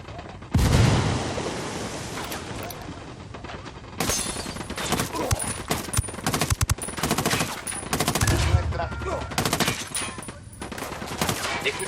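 Gunfire in the video game Ghost Recon Wildlands, loud bursts of automatic fire and sharp shots in rapid clusters with brief lulls between volleys, over a busy battle background.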